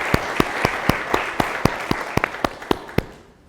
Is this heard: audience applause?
yes